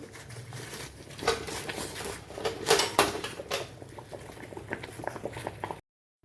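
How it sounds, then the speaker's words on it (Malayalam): Water boils in a pan set up to melt Cadbury chocolate, a steady close bubbling and popping with small irregular bursts, ending abruptly in silence. "ഞാനിപ്പോൾ വെള്ളം തിളപ്പിച്ചിട്ട് ഇത് കാഡ്ബറി ഇതിലേക്ക് വെച്ചിട്ട് ഇത് മെൽറ്റ് ചെയ്യാൻ വെച്ചിരിക്കുകയാണ്"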